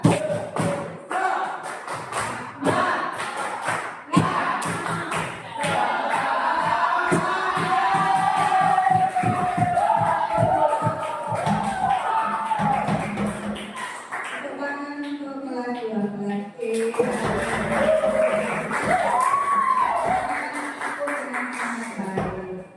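A class of students in an Indonesian chemistry lesson claps out a rhythmic routine, a rapid run of sharp, close hand claps that gives way to loud group chanting and cheering voices.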